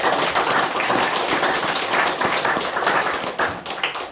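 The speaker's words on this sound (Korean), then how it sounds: "자축의 박수를 한번" A group claps together in a brisk, dense burst of applause, steady and fairly loud, trailing off near the end.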